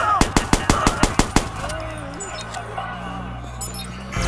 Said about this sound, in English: There's a shooting going on right now.